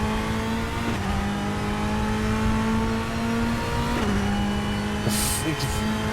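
A race car in the RaceRoom sim racing game holds a steady high engine drone, with a shift in pitch as it changes gear partway through and a short tire squeal near the end.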